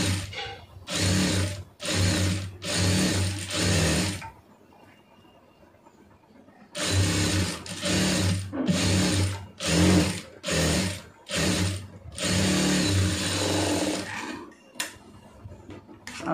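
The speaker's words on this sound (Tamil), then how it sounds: "ஷோல்டர் ஜாயின் பண்ணிவிட்டு அந்த ரெண்டாவது தையல் போடணும்." An electric sewing machine stitches a blouse seam in rapid close bursts, several runs of steady whirring separated by short pauses and a longer quiet gap in the middle.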